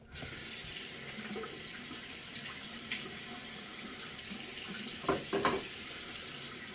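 Water runs steadily from a tap, rinsing a shaving soap plate, making a continuous close hiss and splash with a few brief louder gurgles near the end.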